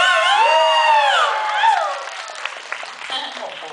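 An audience applauds and cheers for dancers at a Lay's brand event with Nadech, a loud crowd roar with whoops and shouts that fades into scattered clapping while a presenter's voice rises over it.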